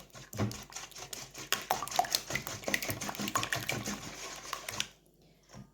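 Batter for an apricot, prune and walnut pie being whisked briskly in a bowl, a rapid rattling clatter of metal against the dish for nearly five seconds before stopping abruptly.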